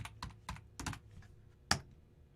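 Typing on a computer keyboard during network lab work: a handful of quiet, close key clicks in an uneven rhythm, ending with one sharper keystroke, with no talk.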